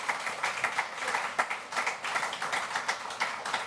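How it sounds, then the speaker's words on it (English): Audience applause after a speaker is introduced on stage at a live professional event in Birmingham, a fairly quiet, uneven patter of many hands heard from a distance. "Please can we give Byron Dixon OBE a round of applause."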